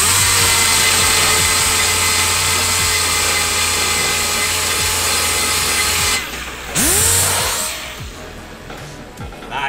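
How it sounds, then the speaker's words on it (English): A power grinder or sander works a repaired wheel rim smooth with a continuous, loud whirring whine, dipping briefly partway through before starting up again. "And grind it smooth, or sand it smooth"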